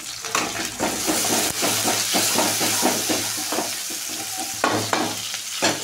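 Coarsely crushed garlic hits browned onion in a hot pan for a vegetable bhaji, a loud continuous sizzle and frying hiss with repeated stirring scrapes and clinks throughout.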